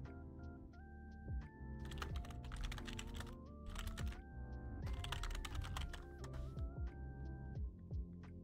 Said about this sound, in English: I'm typing out a lot of things.